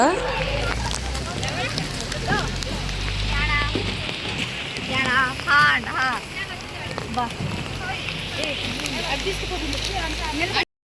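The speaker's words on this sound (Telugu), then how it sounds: "వర్షం నాన్ స్టాప్ గా పడుతూనే ఉందన్నమాట" Steady, nonstop rain falls outdoors at Munnar in Kerala, a dense continuous hiss roughened by wind buffeting the microphone, with people talking over it throughout.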